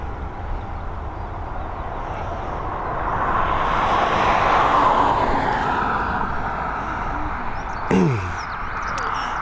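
Airliner departing Dublin Airport runway 10R, a broad distant jet roar that swells to a peak mid-way and then eases off, with a brief nearer engine pass-by near the end.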